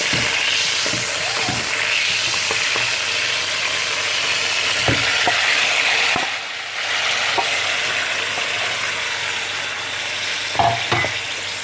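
Chicken and tomato cubes sizzle loudly in a pan for a chicken karahi, a strong continuous frying hiss broken by occasional spatula knocks and scrapes, close by, with a brief dip in the sizzle midway and no talking.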